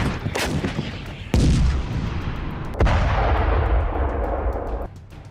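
A Bofors artillery gun of the Indian Army fires a few powerful booming rounds in close succession, each blast trailing off into a heavy rumbling roar.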